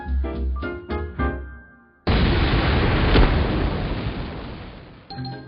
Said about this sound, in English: Earth moving starts with a bang.